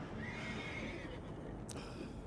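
A horse in the Red Dead Redemption 2 video game gives a clear neigh, a rising and falling whinny over ambient outdoor game noise, followed by a short snort.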